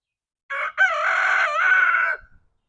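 Brahma hens and chickens give a loud, close crow-like call lasting under two seconds after a short opening cluck, then fall silent.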